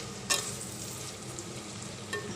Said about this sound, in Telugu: నెయ్యి వేసుకొని నెయ్యి వేడి అయిన తర్వాత ఆనియన్స్ వేసుకున్నా ఫ్రై చేసుకోవడానికి